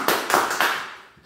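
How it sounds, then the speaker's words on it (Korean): Three quick sharp claps spaced evenly in a room at a church seminar, each one ringing briefly before the next, ending in fading reverberation. "박수 한번 쳐주세요"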